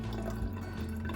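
Food coloring liquid pours slowly into a container, a faint soft trickling with light dripping over a low background hum.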